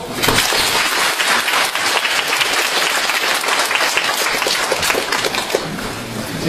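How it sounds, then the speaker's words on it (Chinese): A lecture hall audience gives Professor He Weifang a warm welcome with continuous, loud, dense applause that holds steady the whole time and dips only slightly near the end. "下面让我们以热烈的掌声欢迎贺老师开始讲座"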